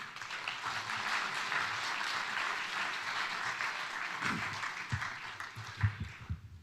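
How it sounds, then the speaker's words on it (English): A roomful of attendees at a talk on finding shalom gives a steady round of applause that thins out near the end into a few scattered, louder claps. "Let's have a nice round of applause for Rich Freeman."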